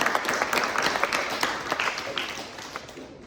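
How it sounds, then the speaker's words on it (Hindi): An audience claps and applauds during a devotional talk at Raghavendra Swami Matha, a dense continuous burst of many hands that stays loud for a few seconds before starting to thin out. "तालियां प्लीज।"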